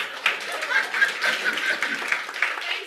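A crowd claps at a church midweek service: a dense, fairly steady patter of many hands with a few louder bursts and faint voices mixed in.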